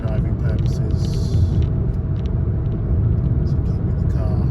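A car cruising in fifth gear on a road near Colwick, a steady low engine and road rumble continuing beneath a voice.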